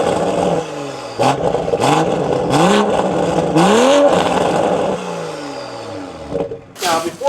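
A Toyota A91 Supra sports car engine revs and shifts repeatedly up close, rising and falling in pitch as it drives in, then idles down and briefly revs again.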